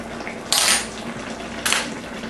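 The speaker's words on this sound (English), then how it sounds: "Okay, we'll give it a stir." A spoon scrapes and clinks inside a cooking pot as red snapper sarciado is stirred, two short bright metallic scrapes about a second apart over a low steady kitchen hum.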